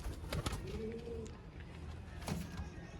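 Golden pigeons coo softly in a low, rolling murmur, with a brief rising call and some shuffling and rustling around them.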